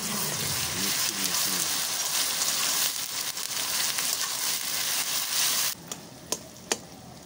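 Garlic and ginger paste sizzles in hot oil in a pan for Bengali mutton kosha, a steady crackling fry with stirring scrapes, then the sizzle drops away near the end leaving a few sharp clinks.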